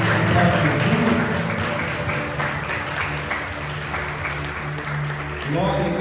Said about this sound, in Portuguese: E vamos aplaudir em nome de Jesus.